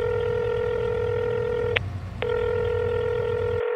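A telephone being dialed to call someone: steady dialing tones held for long stretches, broken by a brief gap with two sharp clicks, with no talk.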